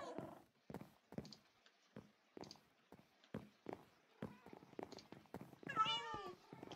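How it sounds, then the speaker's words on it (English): Cats in a video game meow in a steady series of short, faint, evenly spaced calls, with a louder, drawn-out meow near the end. "Here's my cats."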